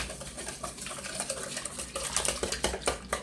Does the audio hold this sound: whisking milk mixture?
yes